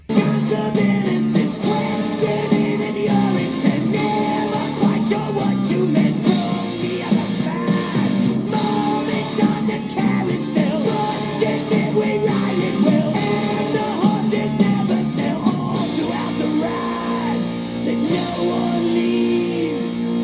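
Dense, loud heavy metal with distorted guitars, driving drums and a shouted vocal line, playing continuously throughout.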